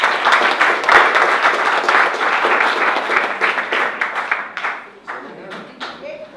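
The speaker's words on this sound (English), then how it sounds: "round of applause" A classroom audience claps for several seconds, loud and close, with individual claps distinct, thinning out toward the end while a voice speaks.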